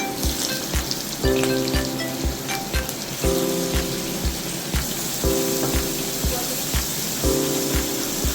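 Shrimp rubbed with turmeric and salt fry in oil in a wok, a loud, close, continuous crackling sizzle broken by regular stirring clinks and scrapes.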